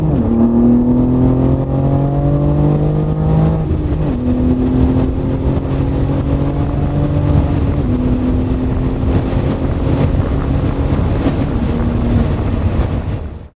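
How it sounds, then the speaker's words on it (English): A BMW G80 M3 with an AWE Switchpath exhaust, non-resonant mid-pipe and high-flow catted downpipes drones loudly under load while accelerating through the gears, its pitch climbing and then dropping at each shift, close and continuous with no talking. "The exhaust clips of the AWE Swtichpath with a non-resonant mid-pipe"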